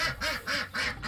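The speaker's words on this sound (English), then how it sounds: "Those ducks like eating outside the fence." Ducks on a farm quack in a quick series of four raspy calls, close and clear with no talk.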